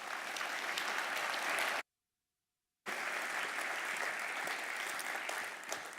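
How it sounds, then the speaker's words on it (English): Sustained audience applause welcoming the puppeteer Basil Twist on stage at a conference, a dense wash of clapping from many hands that stops abruptly for about a second, then resumes just as loud and steady. "please give him, clap your hands as if you're a marionette"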